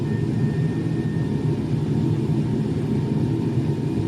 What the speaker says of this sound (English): After takeoff, check this. Landing gear up.